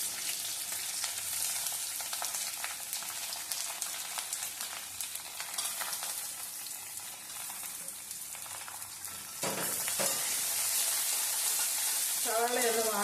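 Garlic, ginger and onion frying in oil with coconut pieces, a steady close hiss and crackle with occasional stirring scrapes, growing louder and brighter near the end.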